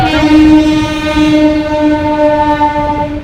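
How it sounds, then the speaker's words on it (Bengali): A train rumbles past close by, its horn sounding a long, loud, sustained blare over the rolling clatter of the cars. "ট্রেন যাচ্ছে।"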